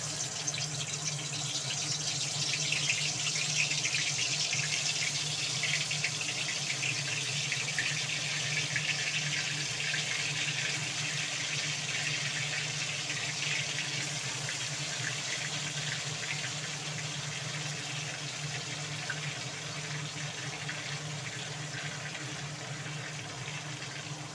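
Ash gourd leaf fritters dropped into hot mustard oil in a wok, giving a steady, close, continuous sizzle and crackle that holds for the whole stretch with no talking.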